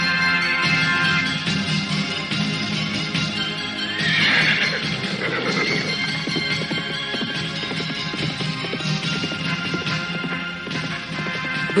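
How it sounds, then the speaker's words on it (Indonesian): Horses whinnying loudly amid a steady clatter of galloping hooves, with a sharp neigh standing out near the middle, continuous over a dramatic background score. "kedua remaja tersebut telah berderap di atas punggung kuda mereka."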